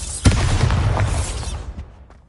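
Bombarda explosion spell in the video game Hogwarts Legacy, a single loud booming blast with rumbling low end that rolls on and fades out over a couple of seconds, no talking.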